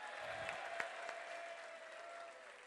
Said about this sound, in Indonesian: Tepuk tangan untuk wanita.